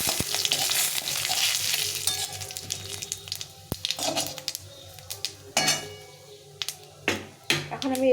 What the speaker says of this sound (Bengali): এখন একটা শুকনো লঙ্কা, একটু তেজপাতা, আর কিছুটা পরিমাণ জিরে দিয়ে এটাকে ভালো করে একটু নেড়ে চেড়ে নিতে হবে